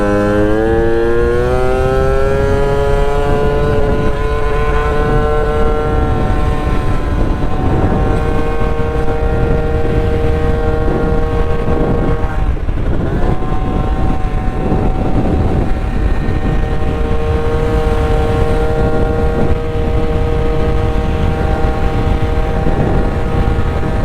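Honda scooter fitted with a smart carburetor, ridden for a tuning test: a continuous loud engine drone with a rising whine that holds steady, close up throughout, with no talking.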